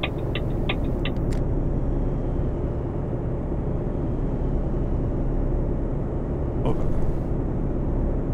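Steady low engine drone and road rumble of a truck cruising in Euro Truck Simulator 2, continuous and even throughout, with a few faint clicks near the start and end.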